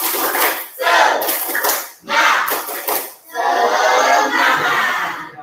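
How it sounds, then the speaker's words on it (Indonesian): Sixth-grade primary classroom in Tanjung Raya performing a spirit clap, groups of sharp rhythmic hand claps with chanted shouts in a few bursts, loud and near in the room. "Satu kali tepuk semangat"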